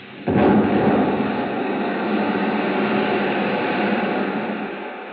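A sudden deep boom from an explosion beneath a ship bursts in, then rolls on as a long, heavy rumble that slowly fades, with no voices.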